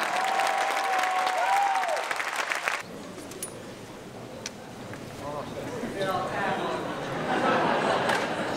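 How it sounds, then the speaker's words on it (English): A live audience at a festival Q&A applauds with loud, dense clapping that carries on for several seconds, fading slightly as voices and cheering mix in. "Let's give a huge applause to Casey Neistat."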